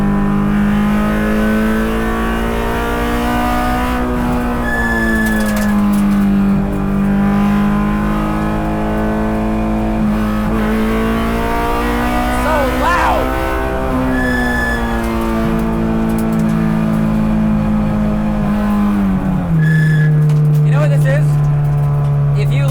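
A Time Attack Honda S2000 race car engine revs loudly and continuously, its pitch rising and falling with repeated throttle blips, up close with a few sharp pops.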